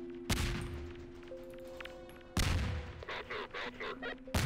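A grenade blast and gunfire in the Thomas.exe video game: sharp booming hits at the start, middle and end, with a rattle of rapid shots between over a steady game hum.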